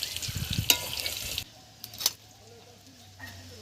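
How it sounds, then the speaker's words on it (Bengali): Potatoes frying in a pan give a crackling sizzle that drops to a quieter hiss partway through, with a few clinks and stirring sounds while people talk. "আলু তো প্রায় ভাজা হয়ে এসছে রে।"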